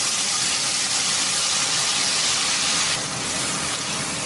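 Ground spice paste sautéing in a hot pan gives a dense, loud, steady sizzle and hiss from start to finish, with no talking.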